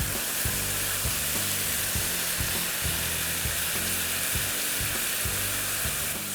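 Coriander and garlic sauce sizzling in a pan as it is stirred through, a dense continuous crackle up close with rhythmic scraping strokes of a spoon repeating every half second or so.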